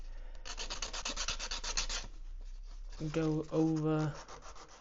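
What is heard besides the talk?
sanding a 3D printed fishing lure with rough sandpaper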